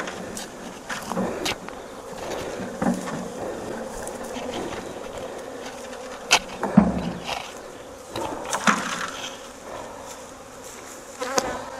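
A swarm of honey bees buzzes continuously nearby, a droning hum with individual bees zipping past now and then.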